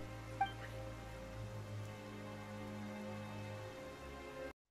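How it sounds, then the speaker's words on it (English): Rain falls in the video game Genshin Impact, a soft steady patter of drops under a faint musical drone, quiet and continuous. "Why is it raining all of a sudden?"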